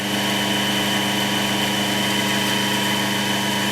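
An electric motor runs on a dyno test stand, powered from an unregulated supply, giving off a steady, close, even hum with a fixed tonal whine and no change in pitch.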